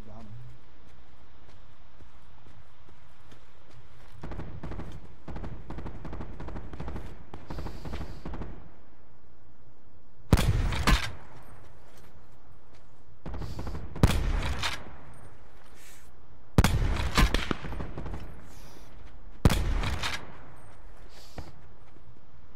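Gunfire in Black Ops 4 arrives in loud, sharp bursts spaced a few seconds apart, set over a steady low game rumble while players talk through the match.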